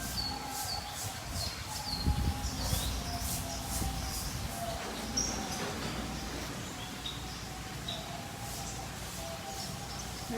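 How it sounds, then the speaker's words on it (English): Green singing finches, including young birds, chirp in short repeated high tweets over a steady low indoor hum. The calls are moderately close and come in scattered bursts. "think they're gonna be green singing finch"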